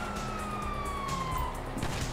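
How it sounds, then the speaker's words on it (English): Police sirens wail in Grand Theft Auto V during a first-person heist, their rising and falling tones sounding moderately distant amid a busy, noisy game scene. "You hear that? Sirens!"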